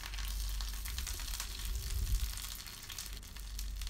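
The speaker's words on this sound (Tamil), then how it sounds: "கருவேப்பிலை நல்லா வதக்கிக்கலாம்." Curry leaves and mustard seeds frying in hot oil for Kerala-style aviyal tempering, a soft continuous sizzle with faint crackles, heard alone at low volume.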